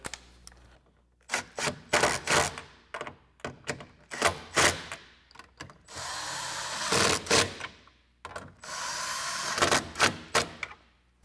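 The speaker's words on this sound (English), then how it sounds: "Then when you're going to take your impact driver," An impact driver drives screws while a powered, heated towing mirror with blind spot detection is fitted to a 2007-2021 Toyota Tundra, giving close, rattling bursts of hammering, some short and some longer, separated by quiet gaps.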